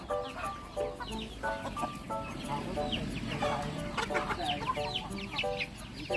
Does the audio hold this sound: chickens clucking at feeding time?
yes